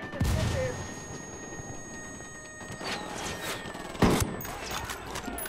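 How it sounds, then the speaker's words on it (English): Video game gunfire from Ghost Recon Wildlands in a snowy sniper setting, sharp shots and short bursts of various weapons, including a loud close blast near the end, with brief voice chatter in between. "Opening fire."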